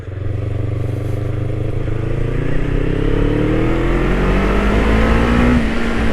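A restored Kawasaki ER5 motorcycle on worn tyres rides along with a steady, loud engine drone that climbs gradually in pitch as it revs and accelerates, with wind noise throughout.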